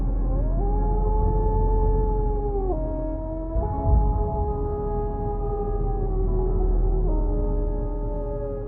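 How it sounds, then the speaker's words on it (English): Long wavering howls of a large wolf, rising and falling in pitch over a steady low rumble, sustained and eerie with no voices present. "the villagers first heard the blood-curdling howls of a large wolf"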